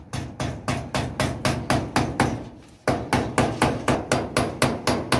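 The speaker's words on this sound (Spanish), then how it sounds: "ahora vamos a clavar la tela metálica" A hammer drives nails into metal wire mesh during small-farm enclosure building for guinea pigs, giving a long, steady run of loud, close strikes at a quick even pace, with one brief pause midway and no voices.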